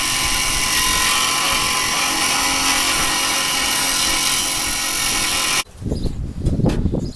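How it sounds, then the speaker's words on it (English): An angle grinder cuts metal for a window build with a loud, harsh, continuous high-pitched screech for several seconds, then stops abruptly, leaving a few softer bumps and handling noises. "let's go get the grinder"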